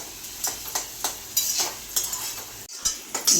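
Okra fries in a pan with a constant close hiss, broken by regular scraping strokes of a spatula against the metal, no voices.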